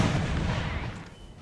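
A 10-pounder cannon fires in Napoleon: Total War, a heavy boom already underway that rumbles and fades away over about a second with no talk.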